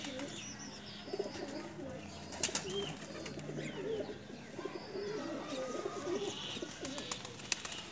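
Pigeons coo in soft, low, repeated throaty calls close by, with occasional wing flutters and faint chirps mixed into a busy background.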